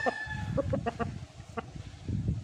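Chickens at a game farm breeding black roosters and brood hens, giving several short close clucks and calls over steady farmyard background noise, with no talking.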